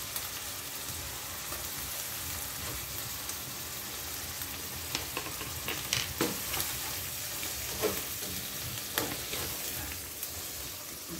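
Shallots fry in oil with a steady close crackling sizzle, rain-like in texture, broken by occasional louder pops and faint utensil taps.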